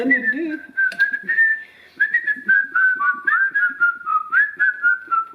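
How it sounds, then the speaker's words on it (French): Someone whistles a simple melody up close while pouring soap for a drop swirl, the notes wavering and sliding while soft pouring and clinking noises continue underneath. "Siffler en versant."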